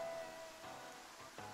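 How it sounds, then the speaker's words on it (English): Rain falling in the video game Dave the Diver, a faint, soft patter spread evenly through the moment, with a brief tonal game sound near the start and a light thump toward the end. "Oh, and it's raining, by the way."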